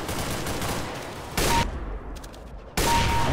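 Gunfire in the video game CS:GO: loud bursts of rapid shots, two sharp volleys standing out over a dense background of firing, with no voices.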